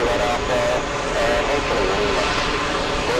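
A JetBlue airliner at JFK airport roars past with a loud, continuous engine rumble and whine, filling the brief moment without pause.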